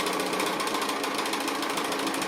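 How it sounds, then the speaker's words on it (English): A sewing machine runs steadily while top stitching the fabric of a traveling pin cushion, producing a fast, even mechanical chatter, close and continuous with no talking. "I can go straight on to doing my top stitching around there"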